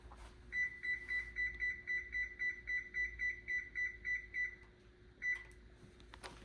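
A kitchen oven's control panel beeps in a quick, steady series of about a dozen short tones while being set to 425 degrees, then one more beep after a pause, over a low background hum.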